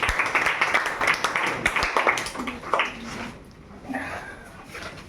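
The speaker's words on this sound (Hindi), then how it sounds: "ताली मारिए इनके लिए।" Audience applause in a classroom quiz session, a burst of dense clapping that fades out over a few seconds, with scattered taps and light chatter underneath.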